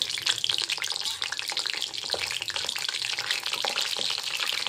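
Cumin seeds and garlic fry in about a spoonful of hot oil in a pan, a dense continuous crackling sizzle heard close and alone.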